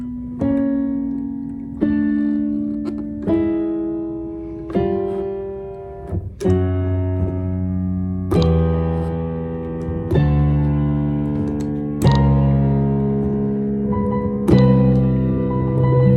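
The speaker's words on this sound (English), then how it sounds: "synth, like a synthesizer and a bass" Closing section of an instrumental EP track with a synthesizer and bass, playing a slow sequence of sustained chords and notes that strike every couple of seconds, layering deeper bass as it builds.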